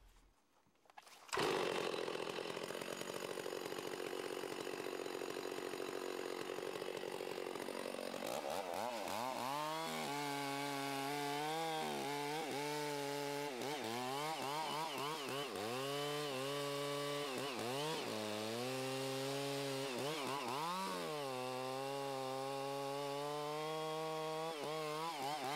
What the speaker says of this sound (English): Use the sight line on the saw to guide the construction of your cuts